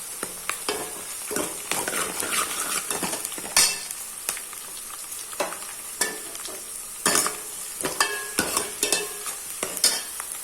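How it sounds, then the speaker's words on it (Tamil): Small garlic cloves and onions sautéing in a pan for an anchovy dried-fish curry, a continuous close sizzle punctuated by irregular scraping and clanking stirs of a metal ladle, no voices. "ஓகே பூண்டு போட்டாச்சு இப்போ வதக்கி விட்டுக்கலாம்"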